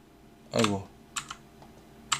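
Keys pressed on a computer keyboard while setting up a Kotlin development environment: a brisk cluster of clicks, then a few single taps spaced apart, close and clear with no talking.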